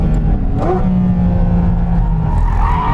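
Porsche 718 Cayman GT4 RS sports car engine held at full throttle through a chicane, a steady loud rising engine note with a faint tyre-squeal edge, close and continuous with no talk.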